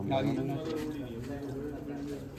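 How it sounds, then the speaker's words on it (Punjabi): Pigeons cooing, low soft throaty calls close by running under a voice talking. "ਬਹੁਤ ਸ਼ਾਨਦਾਰ ਕਬੂਤਰ ਬਈ"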